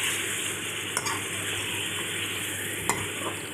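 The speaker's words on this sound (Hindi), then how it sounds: "चिकन को हम तकरीबन 10 मिनट तक भूनेंगे" Chicken pieces sizzle in a pot while a spoon stirs them, a steady hiss broken by a couple of sharp scraping knocks.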